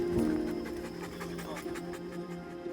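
A dog pants rapidly and rhythmically in an outdoor anti-poaching training exercise, close and moderately loud, with a voice briefly audible alongside.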